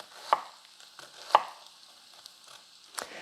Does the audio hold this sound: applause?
no